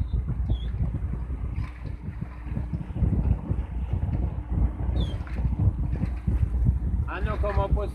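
A small motorboat on open water near Dzharylhach island, under raised sail, with steady engine and wind rumble throughout, water noise close to the microphone, and a few brief voices and a bird-like chirp near the end.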